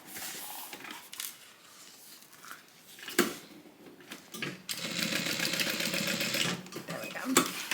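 Sewing machine running in bursts while stitching a bag seam, buzzing loudest in a steady run over the second half, with people talking throughout and briefly over the motor.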